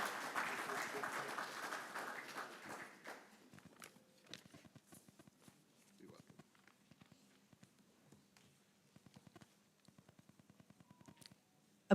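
An audience applauds at a book launch for a history of the Grenada Boys' Secondary School. A dense burst of clapping dies down after a few seconds into sparse, scattered claps, heard faint and at a distance.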